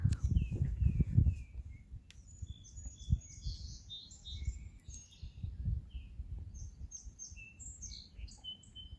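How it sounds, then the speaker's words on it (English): A small bird, probably a sparrow, chirps in quick bright bursts over low rustling and soft thumps nearby, in Borderland State Park, Easton, Massachusetts. "I think it's a sparrow."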